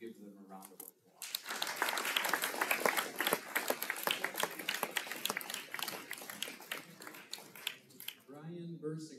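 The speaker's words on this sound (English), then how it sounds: "I would like to have you give them a round of applause." Applause from attendees at a 2023 annual meeting, dense clapping that swells quickly, holds for several seconds and then tapers off, with speech briefly heard at the start and end.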